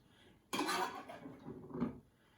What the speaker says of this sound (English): I'm going to actually fish out the chicken here and put it in the bottom of my pan.